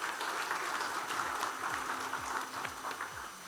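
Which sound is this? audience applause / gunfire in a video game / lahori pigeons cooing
audience applause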